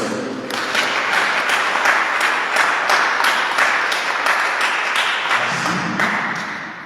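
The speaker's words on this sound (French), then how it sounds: "Acclamons le Seigneur" A congregation at a Christian prayer service claps together in praise, producing rhythmic, evenly spaced claps that build into sustained applause and then fade away, heard up close in a reverberant hall.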